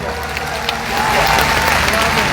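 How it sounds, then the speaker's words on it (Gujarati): A large crowd of the Thakor community at a rally in Gandhinagar claps with raised hands, a dense steady wash of applause that swells louder partway through. "એક વાર જોરદાર બે હાથ ઊંચા કરીને તાળીઓ પાડો"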